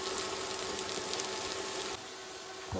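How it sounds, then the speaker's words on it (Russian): Carrots fry in vegetable oil in a pan for cabbage soup, giving a steady close-up hiss and sizzle that drops to a quieter level toward the end, with no talking. "И обжариваем вместе с морковкой."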